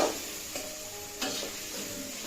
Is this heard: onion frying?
yes